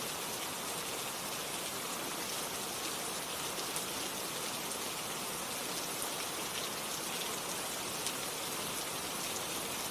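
Steady rain pours down without a break, a dense even hiss of drops striking surfaces, constant in loudness and close, with no other sounds on top.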